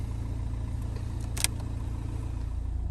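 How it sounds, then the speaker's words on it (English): A low-mileage Nissan Juke with its engine warning light on idles steadily nearby, a low droning hum that eases down slightly as the revs settle near the end, with one brief sharp click midway. "the revs on the car have quietened down"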